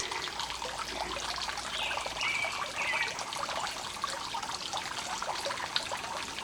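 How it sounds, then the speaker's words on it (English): Water trickles and dribbles steadily at a home estate, a soft continuous burble heard from close by with faint splashy variations and no talk over it. "Just listen to the water."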